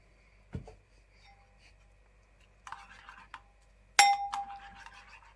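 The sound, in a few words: spoon mixing oats and oat milk in a bowl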